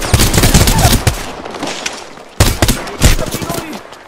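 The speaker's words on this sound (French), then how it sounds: "On me tire dessus" Gunfire in Apex Legends cracks in rapid automatic bursts, close and loud, with a sharp separate volley after a brief lull and several more shots trailing off, while voices speak over the action.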